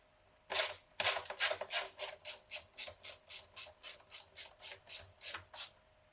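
A 7 mm hose clamp on the intake elbow of an Alfa Romeo Giulia is loosened with a ratchet, giving a quick rhythmic series of about fifteen clicks, close and fairly quiet, with no talking.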